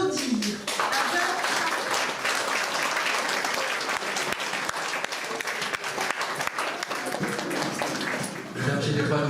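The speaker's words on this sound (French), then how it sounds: "Je vous demande de l'applaudir." Sustained audience applause fills a baptism dinner hall, dense and steady throughout, with voices faintly mixed in before it thins out at the end.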